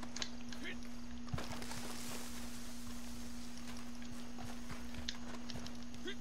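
Horse hooves clip-clopping at a walk in the video game Red Dead Redemption 2, faint irregular hoof clops over a steady low hum and background game sounds.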